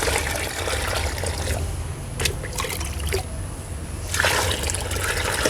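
Water is poured into a guppy tank, running and trickling steadily and splashing into the water, with a brief dip in the flow before it pours again.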